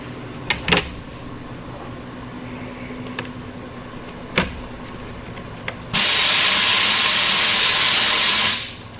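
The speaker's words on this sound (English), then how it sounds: "Sorry about the air compressor noise" A loud, steady hiss of compressed air roars in after a few faint clicks and taps, holding for several seconds before cutting off abruptly.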